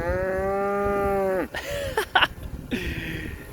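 Cattle in Hopkins Valley near Lake Ohau, New Zealand, give one long, loud, close moo that fades out, followed by a few shorter, rougher bovine calls or grunts.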